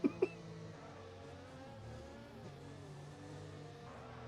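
A race car in a racing video game circles a warm-up lap along the racing line, its engine holding a steady, moderately quiet drone with gentle pitch shifts and a couple of brief sharp clicks at the start.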